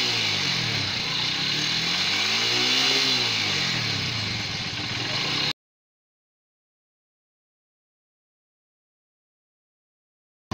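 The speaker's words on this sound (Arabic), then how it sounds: "ده كده صوت المكنه على السلنسيه بعد ما ظبطت الهواء" A motorcycle engine idles steadily up close after an air adjustment, heard at the silencer, a continuous even putter that cuts off abruptly, followed by silence.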